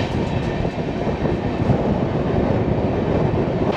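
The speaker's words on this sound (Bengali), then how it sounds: "আমাদের ট্রেন ছেড়ে বেরোচ্ছে বোলপুর স্টেশন" Inside a Vistadome coach of the 12042 New Jalpaiguri Shatabdi Express pulling out of Bolpur station, a loud, steady rumble of wheels and carriage fills the cabin with faint rhythmic clatter and no voices.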